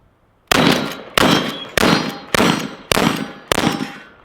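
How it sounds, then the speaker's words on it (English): Six shots from a Mossberg M590A1 tactical shotgun with an 18.5-inch heavy barrel, each a sharp loud blast with a ringing decay, fired at an even pace of roughly one every 0.6 seconds outdoors. "That's the first 6 shots I've ever taken with this shotgun"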